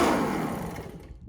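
A go-kart engine sputters and revs for about a second during a failed start, a close, loud, rough burst that fades quickly with no talk.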